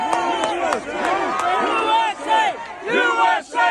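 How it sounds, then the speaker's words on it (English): Overflow crowd gathered outside a meeting chanting and cheering USA in celebration, loud rhythmic voices rising and falling together, close and dense. "The overflow crowd outside the meeting cheered USA in celebration upon hearing the"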